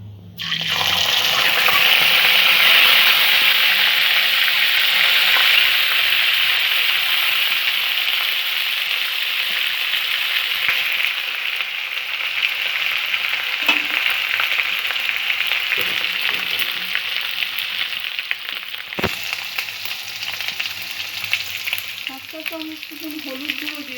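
Ginger paste with whole spices such as dried red chilli and bay leaf frying in oil in a pan, a loud, continuous sizzle that bursts in and slowly softens, with occasional stirring clicks and no speech.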